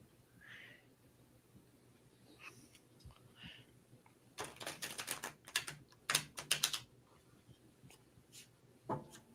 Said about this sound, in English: I love the sound of new cards being shuffled